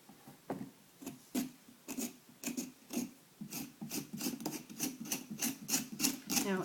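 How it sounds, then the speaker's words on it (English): Repeated scraping strokes inside a carved Halloween pumpkin, a rhythmic rasping that grows steadier and quicker, close and alone without talk. "if I were able to scrape enough of this away, like I said, and enough from the background, back of the inside of the pumpkin"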